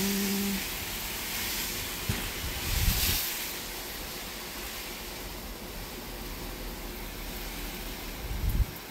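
Strong wind blows outdoors, steady broadband rushing that surges louder around the three-second mark, with brief buffeting gusts against the microphone.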